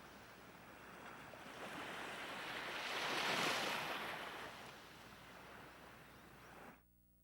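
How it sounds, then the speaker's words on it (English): Ocean waves during ship sailing in Lunar: The Silver Star on the Sega CD. A faint, soft wash of surf swells and fades over several seconds, then cuts off abruptly near the end. "Ooh, we're sailing on a ship."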